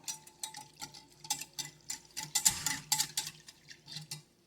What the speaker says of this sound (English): Use it to mix this together with a little bit, whisk it up before it starts clumping up.